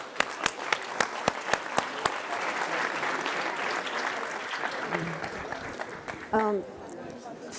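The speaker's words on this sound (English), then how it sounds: "join me in applauding our distinguished speakers." An audience at a UN Alliance of Civilizations global forum plenary session applauds its speakers, a few sharp nearby claps leading into sustained crowd clapping with voices talking over it.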